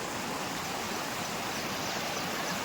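Steady rushing rainwater stream flowing continuously, a dense, even wash of sound with no voices.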